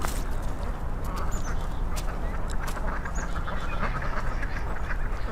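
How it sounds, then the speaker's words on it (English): Ducks beside a canal quack repeatedly and loudly in the morning, calls overlapping over a steady wash of outdoor background noise. "These ducks are very vocal this morning."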